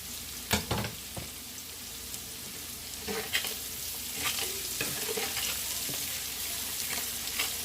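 Three garlic cloves frying in a pan for shrimp and chorizo paella, a steady close sizzle with occasional stirring scrapes and clicks, no voices.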